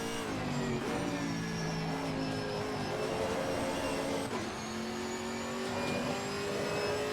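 Chevrolet Camaro GT4.R racing engine at Monza in Assetto Corsa Competizione, a steady loud high-revving drone with rising pitch through the gears and brief dips at shifts, running continuously with no talk.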